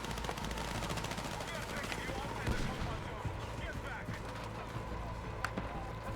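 Rapid automatic gunfire in Battlefield 6, a sustained rattle of shots with scattered louder bursts, mixed with game noise and talk.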